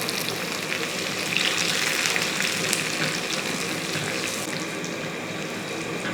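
Chopped shallots, dried red chillies and curry leaves frying in a pan for a Kerala-style chembu leaf curry, with a steady, close sizzle and crackle and no voices.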